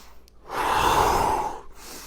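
One long, deep, breathy inhale or exhale swells and fades during a home workout of stretching moves, with quiet room tone before and after.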